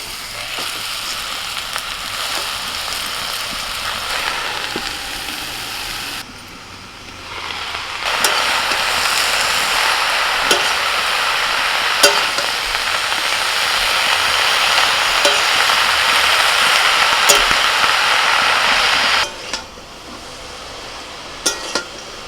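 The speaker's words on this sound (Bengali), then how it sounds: "আনাজগুলো ভালো করে ভেজে নিয়ে এবার শাকগুলো দিয়ে দিচ্ছি" Mixed vegetables fry in a pan as pumpkin greens are added, making a dense, steady sizzle with occasional clinks and scrapes of stirring and a brief dip partway through.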